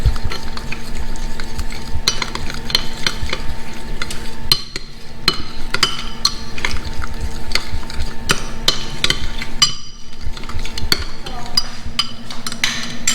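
Meatloaf mixture being stirred and mixed in a bowl, a steady wet churning with utensil scrapes and clinks running continuously at close range, a short pause near the middle, no talking.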